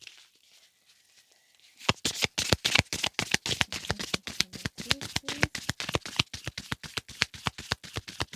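A deck of affirmation cards is shuffled after a short quiet pause, giving a long run of brisk, evenly spaced riffling snaps that are close and fairly loud, with no talking.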